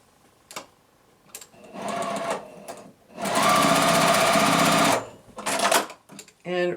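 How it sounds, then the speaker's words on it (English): A sewing machine stitches quilt pieces together for a beginner quilt block. It runs in several bursts: short taps, then a longer run and a sustained, steady whir, followed by a final stretch of stitching. "now I can sew the two sides of this together"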